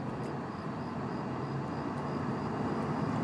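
An airplane drones overhead in Escape From Tarkov, a steady broad engine roar that holds even and fairly loud for the whole stretch, with no talking.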